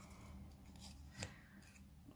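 Scissors snip through paper while a red Christmas card banner is trimmed, one crisp, close cut standing out midway against a quiet room with faint rustling.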